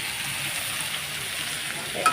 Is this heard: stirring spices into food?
yes